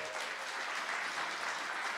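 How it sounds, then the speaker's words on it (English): Church congregation applauding during a Sunday service, a steady wash of many hands clapping at moderate distance, even and sustained for a couple of seconds with no speech over it. "So let's give them a round of applause."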